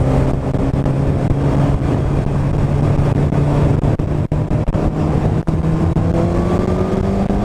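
A Suzuki GSX-R motorcycle fitted with a Michelin Pilot Power 3 rear tyre accelerating on a snowy ride, its engine note climbing steadily under loud rushing wind noise, close and continuous with no talking.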